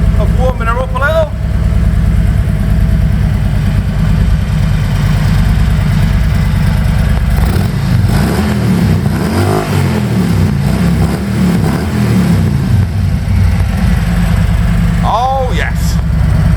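Harley-Davidson Road King, 2020, with a Milwaukee 8 Stage 1 engine and Vance & Hines exhaust, rumbling loud and close in a steady idle, then swelling through a revving burst midway before settling back; brief voices near the start and end.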